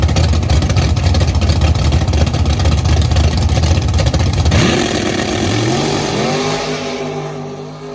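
A drag racing truck makes its time-trial run, its engine roaring loud and steady for several seconds, then the pitch drops sharply and winds down in a falling whine as the truck slows away.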